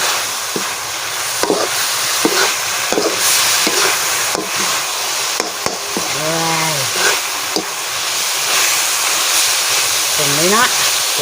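Stir-frying of pad kaphrao with holy basil in a pan, a continuous sizzling hiss punctuated by repeated sharp clacks of a spatula against the pan, while a voice speaks at intervals over the cooking.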